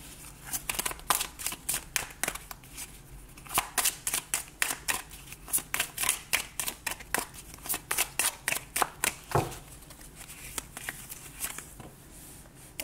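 A deck of tarot cards is shuffled by hand in quick riffling bursts, a rapid run of crisp flutters repeating over and over at close range, with no voices.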